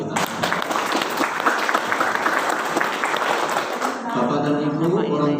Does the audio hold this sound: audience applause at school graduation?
yes